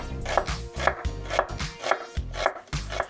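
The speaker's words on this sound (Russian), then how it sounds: "Берем репчатый лук, который нам нужно нарезать на полукольца" Knife chopping an onion into half rings on a cutting board, six steady evenly spaced chops, close and crisp, no talking.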